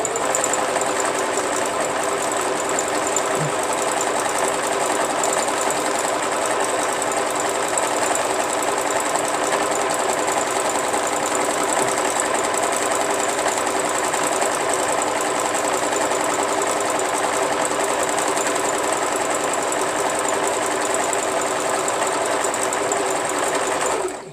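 Sewing machine stitching appliqué down one side of a piece, running continuously with a steady, close mechanical hum and rapid needle chatter for the whole stretch, with no talk.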